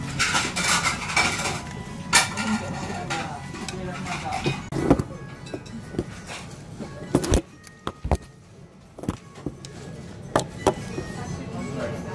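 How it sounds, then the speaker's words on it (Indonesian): Ramen noodles being mixed in a bowl at an Ichiran shop in Tokyo, with close clinks and scrapes of utensils against the bowl in irregular bursts and sharp taps, as a person talks. "Campur dulu semuanya."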